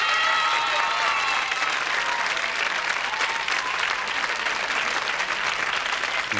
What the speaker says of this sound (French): Tiens, applaudissez-le